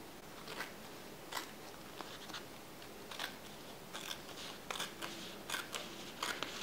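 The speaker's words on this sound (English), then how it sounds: "I just take my scissors and I just cut that overhang off" Scissors trimming the overhang off a planner sticker: a series of quiet, close, crisp snips at irregular intervals over a soft background hiss.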